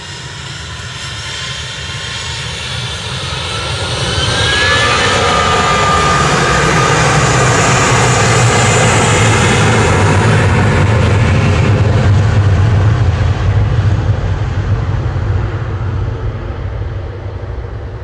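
A British Airways A320 airliner roars on departure from Manchester Airport bound for London Heathrow, its loud engine noise swelling, holding steady and then slowly fading as it climbs away.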